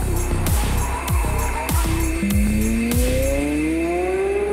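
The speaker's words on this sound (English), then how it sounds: "Der V10 ein Gedicht, Fahrleistungen und Sound einfach zum Niederknien" A Porsche ten-cylinder V10 road car, built in Leipzig with a carbon-fibre body, revs hard through repeated rising sweeps, each cut by a quick dip, loud and close throughout.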